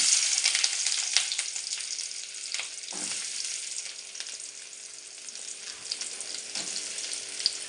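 Chopped onion and garlic sizzle in hot oil for a traditional Tamil vatha kuzhambu, a dense, steady hiss with a few soft crackles and pops close by.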